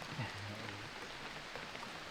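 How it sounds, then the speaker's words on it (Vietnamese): Light rain falling on a cold day, a faint, even patter heard alone without speech, steady throughout. "hôm nay thời tiết cũng mưa rồi em ạ"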